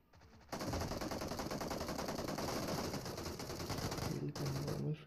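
Continuous rapid gunfire from a battle royale video game fight, dense automatic bursts sustained loud throughout with a brief gap near the end, no talking.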